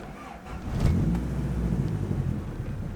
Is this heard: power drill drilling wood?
no